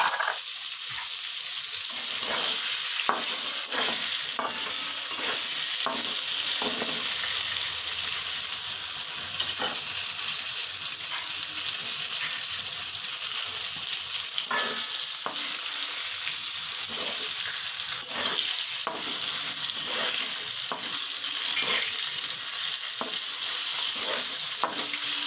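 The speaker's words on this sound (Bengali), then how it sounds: "পটলগুলো আমার ভাজা হয়ে গেছে। এবার আমি এক এক করে পটলগুলো তুলে নিচ্ছি।" Pointed gourd (potol) frying in oil in a pan gives off a steady, close sizzle, broken by repeated scrapes and clinks of stirring throughout, with no talking.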